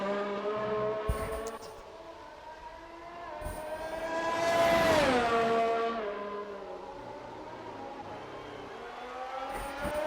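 Formula 1 cars, including a Williams and a McLaren, run qualifying laps at the Canada circuit in a racing game. A high engine whine drones steadily, and one car passes close and loud midway with a falling pitch before fading.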